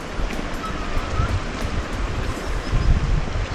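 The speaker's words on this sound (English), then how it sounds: "So this is a roaring river." Roaring river in Trondheim, Norway, swollen after morning rain: a steady, dense rush of water close by, broad and continuous with no pauses and no talk.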